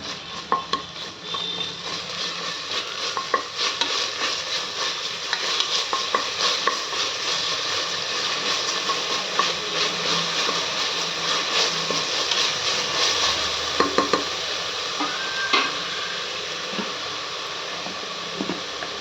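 Onions fry with ginger-garlic paste for veg masala rice, giving a continuous sizzle under repeated scraping and clinking of a spoon against the pan. The stirring is close and busy throughout, with no talk.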